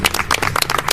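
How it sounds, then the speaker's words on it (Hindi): Crowd at a political rally in Delhi clapping, a dense burst of overlapping handclaps that holds steady and fairly loud through the short moment, with no talk over it. "पूर्वांचल वालों के लिए जोरदार तालियां बजाओ"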